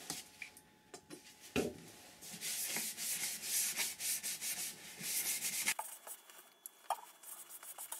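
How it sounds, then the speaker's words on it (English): Sanding sealer is rubbed onto a turned walnut bowl, a steady, close, breathy friction hiss with some small taps, running for several seconds before dropping away. "I will get some sanding sealer on it now"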